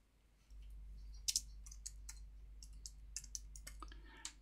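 Fingers tap out a short run of light, irregular clicks on a computer keyboard, quiet and close, over a faint low hum with no talking.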